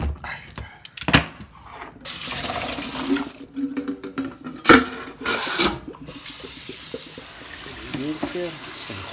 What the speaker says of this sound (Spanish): Sacar el grano, darle una limpiadita para quitarle el agua con el que ha estado.